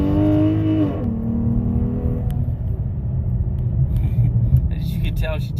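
A Dodge Challenger fitted with NGK plugs and Ripp coil packs launches hard from a standstill, its loud engine rumble climbing through a quick rev before settling into a steady, heavy drone as it pulls away.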